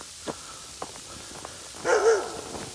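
A dog barks once or twice at middling distance on a snowy trail, preceded by a few faint scattered footstep-like taps, with no talk over it.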